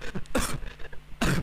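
A person coughing in a few harsh, clustered bursts that sound like throat-clearing coughs, close and fairly loud, heard within a game reaction segment without talk over them.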